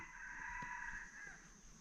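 A jungle fowl crows once, a drawn-out rooster-like call heard from a short distance over steady background hum.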